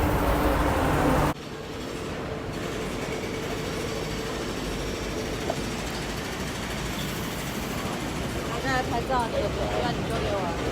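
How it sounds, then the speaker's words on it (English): A train passes at Kwun Tong Station in Hong Kong, rumbling with a steady roar and rattling wheels, loud and close, ending with a brief squeal. "Let's spot some trains."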